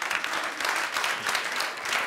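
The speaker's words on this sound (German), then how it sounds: "Bitte mal klatschen, wer auch nicht gerne in der Schule war." A stand-up comedy crowd claps in response to the comedian, a moderate, continuous patter of many hands filling the room evenly without a break.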